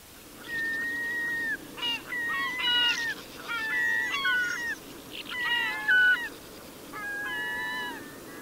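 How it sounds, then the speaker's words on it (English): Herring gull calls from a bird-song field-guide recording, a series of loud, clear, mewing and yelping cries in separated bursts, some drawn out and wavering, against a faint steady background. "Herring Gull."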